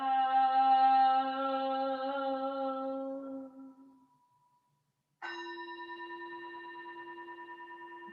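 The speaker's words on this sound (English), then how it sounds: "for the sound of the bell" A meditation bell is struck twice during a Sunday Zen service. The first strike is long and resonant and fades to silence over about four seconds, then a second strike rings out with a steady, slightly pulsing sustain.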